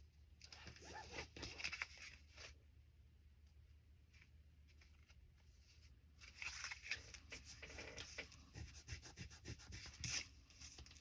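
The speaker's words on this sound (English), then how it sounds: "Just rubbing off that extra glue." Excess glue being rubbed off a page of a handmade spring journal: dry, scratchy rubbing strokes come in bursts with short pauses, close and fairly quiet.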